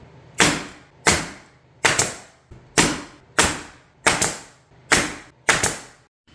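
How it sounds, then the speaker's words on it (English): Staple gun driving staples into wood pieces for an IKEA EKTORP sectional sofa arm repair: eight sharp, loud snapping shots at a steady rhythm of roughly one every 0.7 seconds, close and alone. "And then I just need to staple this together."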